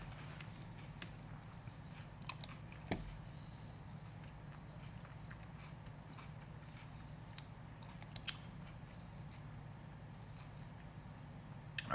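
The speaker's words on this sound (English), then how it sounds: "Now I'm eating some Bunch of Crunch." Someone chews Bunch of Crunch candy with faint, scattered crunching bites over a steady low hum, no voices.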